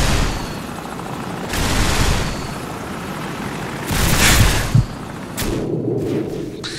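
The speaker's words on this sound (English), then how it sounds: "Enemy helicopter! Get down!" Heavy helicopter rotor thumping rises and falls amid loud bursts and booms, an enemy helicopter passing close over a noisy battle scene in the video game Call of Duty 4: Modern Warfare.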